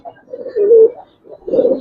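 A Giribaz pigeon gives close, soft, throaty coos in two short bursts while being handled, with a brief pause between them.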